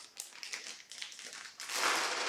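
A plastic bag of Poundland malt balls crinkles close up in irregular bursts, then gives way to a louder rattling pour as the chocolate balls tumble out.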